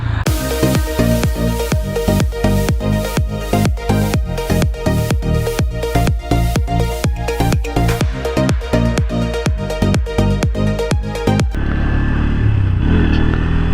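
Bajaj Pulsar N160 motorcycle engine revving repeatedly in quick, even blips, loud and close, each rev rising and falling in a steady chugging rhythm before settling to a rougher idle near the end.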